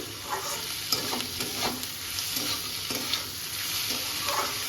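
Lote fish (Bombay duck) being stirred in a hot pan, a steady crackling sizzle of frying with soft scraping stirs and small pops throughout, close and alone.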